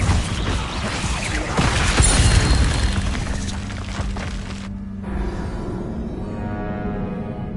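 An Incendio fire spell cast in Wizard Simulator, producing a loud dense whooshing burst that swells, then cuts off abruptly and leaves a softer lingering hum.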